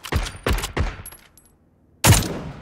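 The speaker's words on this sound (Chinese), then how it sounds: "我挺喜欢那把枪，那把枪声好屌" Gunfire from a bolt-action sniper rifle in PUBG: three sharp, loud shots in quick succession, a brief pause, then a fourth powerful crack, each with a short echoing tail.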